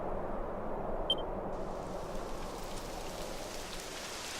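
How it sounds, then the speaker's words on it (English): Steady rain begins pouring in the video game Dragon Quest XI Echoes of an Elusive Age, a soft even hiss of falling drops at low volume with no voices. "It would have to go and start raining, wouldn't it?"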